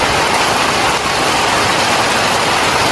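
Heavy rain, driven by strong wind, pours down in a loud, steady broadband hiss that fills the scene without a break.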